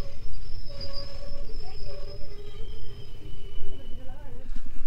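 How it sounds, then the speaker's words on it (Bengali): Passenger express train pulling into a station at night, a steady low rumble with long sustained tonal whines and squeals of rolling stock, close and continuous, with faint voices in the background. "নির্ধারিত সময়ের থেকে 4 মিনিট দেরিতে আমাদের ট্রেন এসে পৌঁছলো নিউ ময়নাগুড়ি স্টেশনে"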